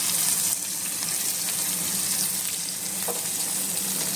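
Fish fries in hot oil in a pan, giving a steady close sizzle that runs through the whole stretch with no pauses and no talk.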